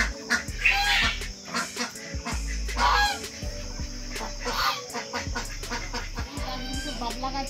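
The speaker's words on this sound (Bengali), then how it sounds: "হাঁসের প্যাক প্যাক প্যাক প্যাক আওয়াজ শুনে দেখলাম এখানে বড় বড় হাঁস, রাজহাঁসও রয়েছে" Ducks and geese at a nature park in West Bengal honk and quack in a busy, overlapping chorus of repeated calls, fairly close, with bursts rising and falling throughout.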